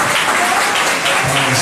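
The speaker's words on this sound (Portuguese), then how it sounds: "podem bater para Jesus uma salva de palmas" Church congregation at a mission service applauding for Jesus, a dense, steady wash of many hands clapping that fills the room without pause, with a faint voice showing through near the end.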